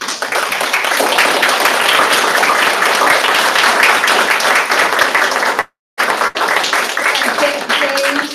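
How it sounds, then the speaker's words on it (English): An audience at a third grade boys' oratorical event gives a loud, dense round of applause that runs steadily for several seconds, cuts out briefly, then resumes. "please join James so we can give all of you a rousing round of applause"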